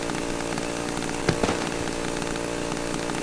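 A chainsaw in the horror video game Cry of Fear runs at a constant loud buzzing idle, with a couple of sharp knocks partway through and no voices.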